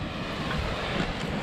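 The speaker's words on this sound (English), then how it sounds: "There's this flow of water here" Steady outdoor water flow at a pumping plant beside a bay used for field irrigation, a continuous broadband wash mixed with wind buffeting the microphone, no talk.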